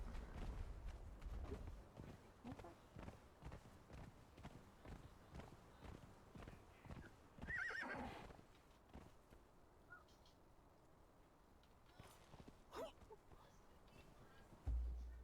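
Horse hooves in the video game Conan Exiles, a steady run of soft, distinct clip-clop steps over several seconds, fairly faint, with a few brief louder bursts and no clear neigh.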